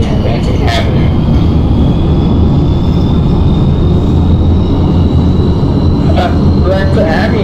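Manhattan-bound 2 subway train in New York running along the track, a loud continuous roar and rattle heard from inside, with speech occurring over the noise.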